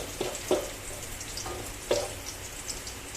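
Chicken adobo frying in a pan, a continuous close sizzle broken by a few sharp crackles and stirring knocks, with no one speaking.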